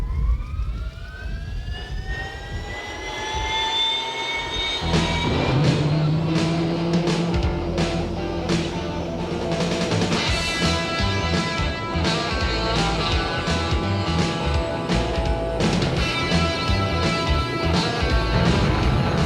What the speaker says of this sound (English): this is classic helicopter stuff because it's the only way you can do it is in a helicopter